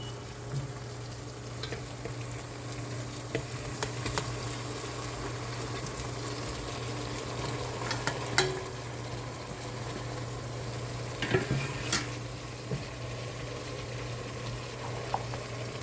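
Mutton, a 3 lb batch, sautéing in a pan for biryani: a steady low bubbling sizzle with a constant hum underneath, broken by a few brief scraping and clattering stirs, moderately quiet with no talking.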